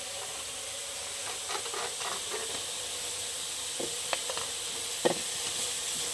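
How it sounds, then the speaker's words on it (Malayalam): A steady soft sizzle of carrots sautéing in ghee, with a few light scrapes of a spatula stirring in the pan. "ക്യാരറ്റ് നന്നായിട്ട് വഴണ്ട് വന്നിട്ടുണ്ട് നെയ്യിൽ കിടന്ന്"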